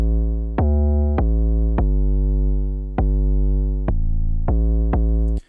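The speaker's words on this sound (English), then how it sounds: "the 808 is gonna switch up" A stock 808 bass in Logic switching up at the hook of a simple afrobeat: loud, close, booming sub notes struck seven times in an irregular pattern, each ringing out and fading, shifting pitch partway through, alone without drums or voices.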